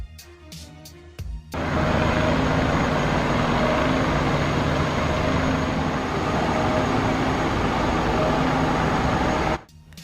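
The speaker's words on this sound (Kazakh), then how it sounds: "Вертолет айналып, сальто жасап жатыр." A helicopter roars loudly and steadily while flying and flipping in mid-air. The sound starts abruptly after a few sharp knocks and cuts off near the end.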